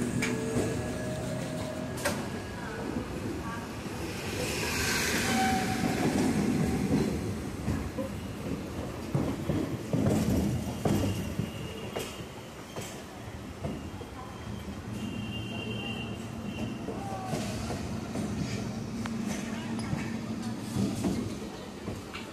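Trains roll past on the Howrah-Tarakeswar railway line near a Duronto Express, a steady mid-level rumble with clickety-clack beats over about twenty seconds and some faint voices mixed in.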